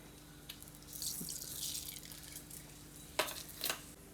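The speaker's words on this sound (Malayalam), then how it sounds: "വെളിച്ചെണ്ണ ചൂടായിട്ടുണ്ട്. ഇനി നമുക്ക് കടുക് ഇടാം." Mustard seeds crackling in hot coconut oil for a Kerala-style tempering of pumpkin leaves, a soft hissing sizzle that swells in the middle with a few sharp pops near the end, quiet and close.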